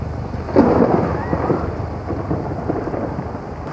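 Heavy rain pours steadily in a wet-day storm as a low thunder rumble swells near the start and rolls on beneath the downpour, loud and close, with no voices.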